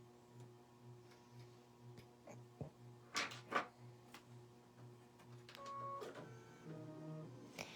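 A Baby Lock IQ Designer embroidery machine tacks down green thread on a pumpkin design, ticking and humming in a quiet, steady rhythm broken by a few sharper clicks.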